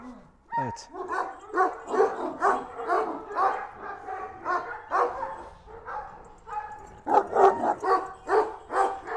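A handsome, sturdy dog barks repeatedly at close range in a rapid, uneven series of loud barks and yips, with a brief whimpering sound near the start.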